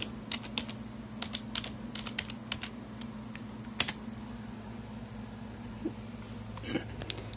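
Soft typing on a computer keyboard while searching in Windows 10 produces scattered light key clicks, with a few heavier taps and a small cluster near the end, over a low steady hum.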